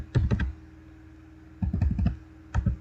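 Short bursts of computer keyboard typing, three quick clusters of crisp keystrokes separated by pauses, close and clear in a quiet room.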